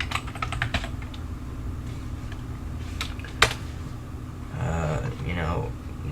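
Quick keystrokes on a computer keyboard at a Power Mac G5 desk, a loose run of clicks with one louder tap, over a low steady room hum and faint background noise.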